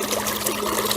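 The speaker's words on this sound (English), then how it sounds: "it's going to start spraying up water." A 1/2HP sump pump sprays pool water upward in a steady, close, splashing rush that continues without a break.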